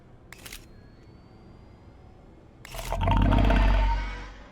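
A camera shutter in the horror game Visage, with two quick sharp clicks early on, then a louder whooshing, rumbling swell that rises and fades.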